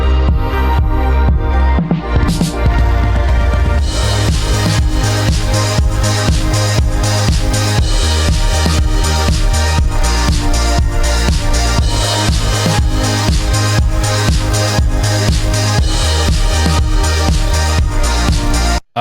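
A full electronic song instrumental with arpeggiators, dense and loud throughout, with a steady driving beat and layered synths that filter in over the first few seconds, no voices.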